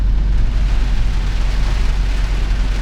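Heavy rain drumming on the roof of a car with its headliner removed, heard from inside as a loud, dense, unbroken roar with a deep rumble underneath and no voices.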